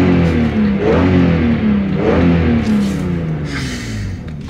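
A Lexus 2JZ engine in a car revs hard under load, its pitch climbing and falling through several sweeps, loud and close with a rough, aggressive tone throughout.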